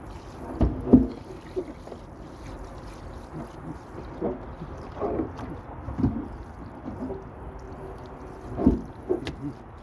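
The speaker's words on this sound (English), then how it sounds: "we'll rinse it off" Water is rinsed off a dome, faint intermittent splashes and trickles spread across the stretch at low level, with quiet gaps between the bursts.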